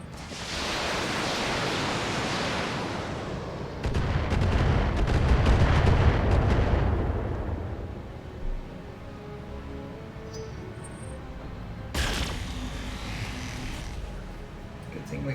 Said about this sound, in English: actually do precision strike here on this LRM turret